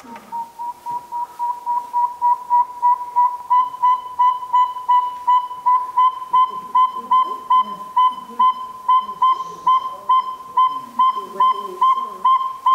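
A saw-whet owl repeats a high, even tooting whistle, steady beats over and over, clear and close with faint background sounds.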